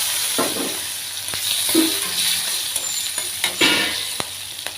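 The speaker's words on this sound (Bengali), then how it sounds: "এবার আমি রাঁধুনি ফোড়ন দিয়ে দেব। কাঁচা লঙ্কাটা দিয়ে দেব।" Radhuni seeds and green chilli hitting hot oil with browned garlic for a spinach and small fish dish, a close crackling sizzle with sharp spattering pops and occasional spoon clinks, without talk.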